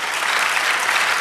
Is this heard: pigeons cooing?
no